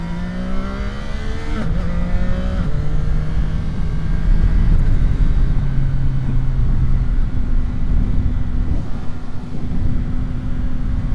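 A CFMOTO 675 SR-R motorcycle is ridden hard, its engine revving up in rising pitch sweeps through quick gear changes under loud wind rush, then settling into a steady drone.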